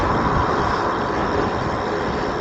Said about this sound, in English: I think it's the OV-22 Osprey